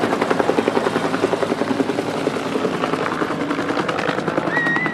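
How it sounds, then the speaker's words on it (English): A Sheriff's Department Huey helicopter flies by during a Veterans Day parade in Knoxville, its rotor blades thumping in a loud, rapid, steady rhythm throughout. "that Huey helicopter is unmistakable."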